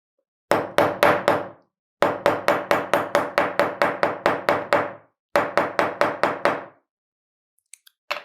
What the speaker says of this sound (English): I am going to take a wooden stripe and I am going to hammer it well.